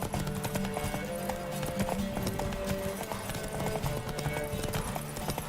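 Hooves of Roach, the horse in The Witcher 3, clip-clopping in a quick continuous rhythm over busy game ambience and music, close and fairly loud for the whole stretch.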